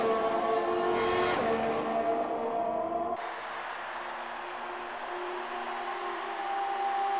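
Formula 1 race car engines in the F1 2018 video game scream at high revs, with a rising pitch sweep and a brief passing whoosh before settling into a steadier engine tone.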